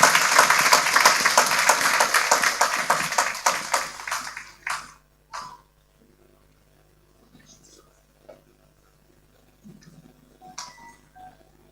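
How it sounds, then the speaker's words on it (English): Audience clapping at the annual general conference of the Ghana Physician Assistants Association, starting as a loud, dense burst of applause that thins and fades after about four seconds, leaving only a few isolated claps and faint sounds. "Let's clap for them as they try."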